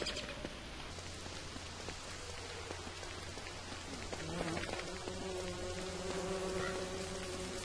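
A steady, dense hiss like rain fills the scene in the game Don't Starve, with a faint insect-like bee buzzing threaded through it and no voices.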